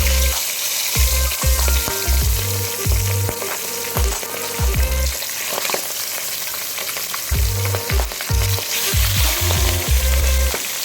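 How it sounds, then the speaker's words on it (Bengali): Fish heads rubbed with salt and turmeric fry in hot mustard oil, a loud, steady sizzle with bursts of crackling and spattering as the pieces hit and settle in the pan. "এবার আমরা নুন হলুদ মাখানো মাছের মুড়োগুলোকে ভালো করে ভেজে নেব।"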